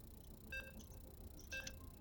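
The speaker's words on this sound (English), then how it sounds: "There's the comforting beeps to let us know we're actually getting into game." Two short bursts of electronic beeps about a second apart, faint against a quiet hiss.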